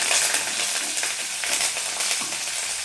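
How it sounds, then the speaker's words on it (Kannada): Green chillies and curry leaves fry in a hot pan with garlic, giving a steady, loud hiss and crackle throughout, with faint stirring and no talk. "ಒಂದೆರಡು ಹಸಿಮೆಣಸಿನಕಾಯಿ, ಒಂದು ಸ್ವಲ್ಪ ಕರಿಬೇವು, ಇದನ್ನು ಹಾಕ್ಕೊಂಡು ಮತ್ತೆ ಒಂದು ಸ್ವಲ್ಪ ಫ್ರೈ ಮಾಡ್ಕೊಳ್ತೀನಿ"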